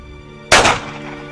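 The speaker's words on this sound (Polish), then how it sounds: "Słyszeliśmy strzał." A single sharp video game gunshot bursts out of a quiet background, loud and close, with a short ringing decay afterward.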